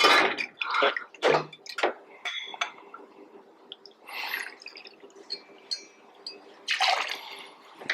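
Scotch whisky poured into a Penicillin cocktail at a bar, a liquid trickle broken up by clinks of glass and metal bar tools, several short bursts close by with no talking.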